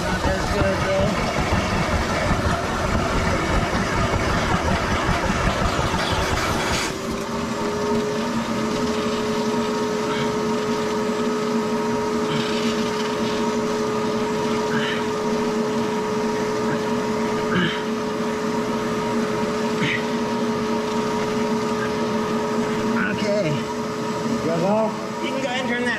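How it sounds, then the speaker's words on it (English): A steady, loud mechanical drone of a vacuum motor suctioning oil during a Kioti tractor service runs throughout with a constant hum, a slight shift in pitch partway through. "You can go ahead and turn that vacuum off."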